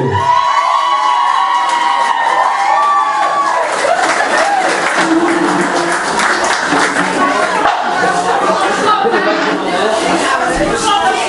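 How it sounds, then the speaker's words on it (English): Steady applause and cheering from a crowd at a hotel party, with whoops and chatter mixed in, continuing throughout at a fairly loud level. "Let's give them another round of applause, group two."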